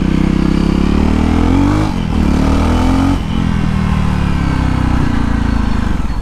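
A JAWA motorcycle accelerates hard through the gears, its loud engine note rising steadily, dropping at each of two shifts and then climbing again, with no talk.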